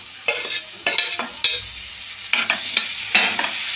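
Onion and tomato being stir-fried for Marathi-style methi bhaji, with a steady sizzle broken by repeated scraping strokes of a spoon against the pan, close and clear with no talking.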